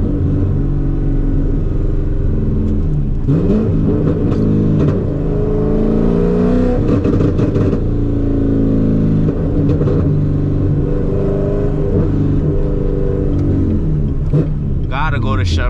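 Chevrolet Corvette C7 V8 engine revving and rumbling during street drifting in South Florida, loud and close throughout with rises and falls in pitch, while someone talks over it.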